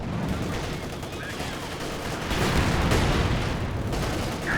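Mortar barrage and gunfire in the World War II strategy game Company of Heroes 2 form a dense, loud, continuous wall of rattling shots and booms that swells slightly midway, with no pauses.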